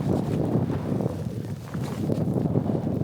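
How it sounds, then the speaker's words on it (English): Strong wind buffets a microphone on a cloud-covered, snowy mountain, a steady low roar with gusting surges that dips briefly midway before rising again, with no voices. "The wind is pretty vicious at points"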